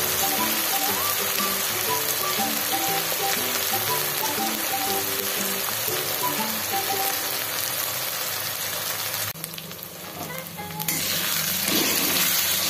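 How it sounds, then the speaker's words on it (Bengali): Ginger garlic paste frying in a pan gives a continuous dense sizzle and crackle, close and loud, with stirring movements and a brief dip partway through before the sizzle returns. "আদা রসুনের পেস্টটা দিয়ে আরেকটু নেড়ে চেড়ে নেব।"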